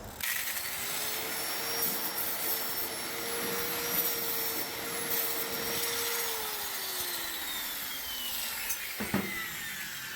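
A grinder whines steadily as it grinds rust off metal, its pitch sagging as it winds down near the end, with a sharp knock just after.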